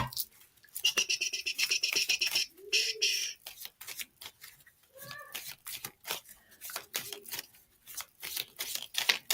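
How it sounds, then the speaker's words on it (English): Tarot cards are shuffled in repeated quick riffles and soft slaps, close and crisp, with brief pauses between bursts and faint bird calls behind. "I'm shuffling these cards."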